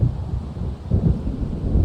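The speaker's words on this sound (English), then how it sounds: "It seems there's a storm coming." Low, rolling thunder from an approaching storm in the Alan Wake video game, a continuous deep rumble with swells, moderately loud with no speech.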